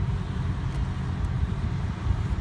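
A 2003 Pontiac Bonneville SE sedan with a 3.8 V6 engine idles steadily, giving off a continuous low rumble that stays even and unbroken throughout.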